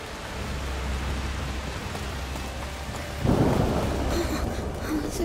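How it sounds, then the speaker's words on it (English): Heavy rain and rolling thunder from a storm in the video game A Plague Tale: Requiem, a steady wash of downpour with a louder thunder rumble swelling midway, no voices. "The rain is getting worse."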